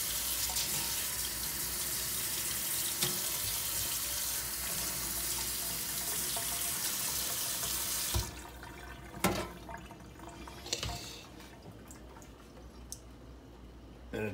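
Water streaming from a sink faucet with weak pressure, a steady rushing hiss that stops after about eight seconds, leaving drips and small clunks.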